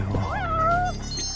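A single drawn-out cat meow rises and holds in the video game Judgment, close and clear over quiet game ambience.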